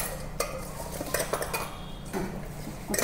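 A spoon mixing cucumber pickle with chilli powder, salt and fenugreek, giving close, irregular scraping and clinking against the container with short pauses between strokes.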